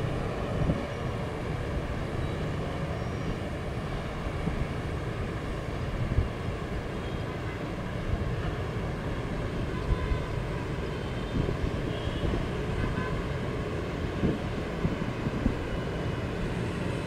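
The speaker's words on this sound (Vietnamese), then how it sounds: "Và các bạn có nghe thấy tiếng động cơ cánh quạt hay không? Đó là một chiếc trực thăng vừa cất cánh ở sân bay quốc tế Đà Nẵng." A helicopter's propeller engine taking off from Da Nang International Airport, a steady, loud droning roar that holds for the whole stretch without letup, with no voices over it.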